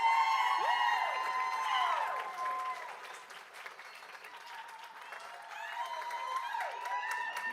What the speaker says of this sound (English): Usually it's Orange Park Elementary that has the cheering crowd